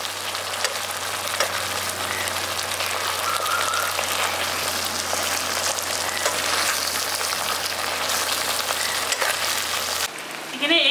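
Fried eggs stirred into egg manchurian in a hot pan, a steady loud sizzle and crackle of frying with faint scraping of the stirring, continuous and uninterrupted.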